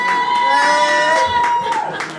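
A comedy club audience cheers and whoops in a loud, dense crowd roar that carries on throughout, with a comedian's voice over it.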